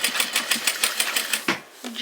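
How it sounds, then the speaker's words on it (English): A sewing machine stitches a short straight seam on a fabric dog collar, a fast rhythmic close-up chatter of the needle that stops briefly and restarts, with a voice speaking over it. "or sew a little straight line."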